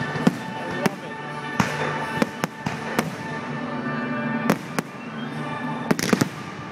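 Fireworks at the Shrewsbury Flower Show go off in a scattered series of sharp bangs and crackles amid crowd noise, some bursts in quick pairs, a few people talking nearby.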